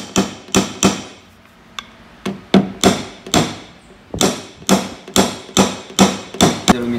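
A hammer taps out a dent in a repainted car body panel, sounding as a steady series of sharp, close metallic strikes with short gaps and no talk.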